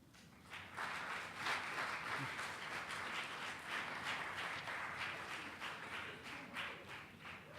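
An audience at a public budget hearing claps after a presentation, a steady round of moderate applause from a modest crowd lasting several seconds.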